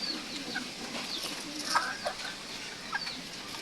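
Serama bantam chickens, including a laying hen, give soft, scattered clucks at moderate distance over a quiet background.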